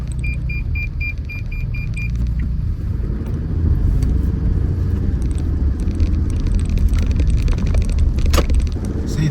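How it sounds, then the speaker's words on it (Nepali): Toyota Land Cruiser LC300 V6 engine droning steadily from inside the cabin while driving, a loud low rumble with a few electronic beeps early on. "इन्जिनको आवाज पनि I think the previous models had more ह्यार आवाज अहिलेको भन्दा"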